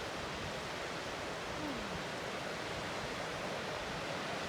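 A waterfall along a mountain hiking trail rushes as a steady, faint broadband hiss in the distance, unbroken and with no voices.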